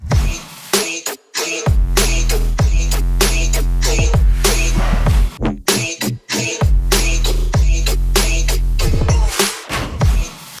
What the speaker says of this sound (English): the drop lead doesn't have that much character because I wanted the track to be driven by the 808